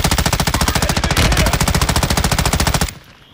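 Rapid automatic gunfire from Call of Duty Warzone rattles out in a long, evenly spaced burst lasting nearly three seconds, loud and close, then stops abruptly into quiet.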